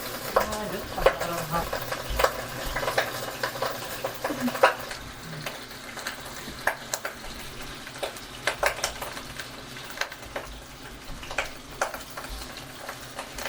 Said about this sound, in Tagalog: We're gonna fry some eggplants, guys.